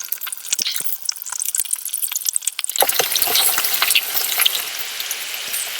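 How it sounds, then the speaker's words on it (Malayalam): Chicken pieces dropping one by one into hot ghee in a pan, sharp spattering sizzles that swell into a dense, loud continuous crackle as more pieces go in. "പാനിലേക്ക് നമുക്ക് നെയ്യ് ഒഴിച്ചു കൊടുക്കാം ചിക്കൻ ഫ്രൈ ചെയ്യാനായിട്ട്"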